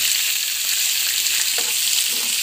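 Stuffed brinjal curry (guttivankaya) is stirred in a pan on the stove and gives a steady, loud sizzle and frying hiss throughout, with a few soft scraping stirs and no talk.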